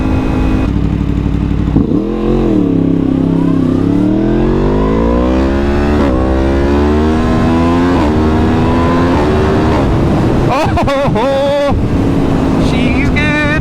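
A Yamaha MT10 motorcycle, freshly repaired after engine failure, rides on the road, its engine loud and close, revving up through rising pitch with gear changes, while a rider talks over the wind and exhaust.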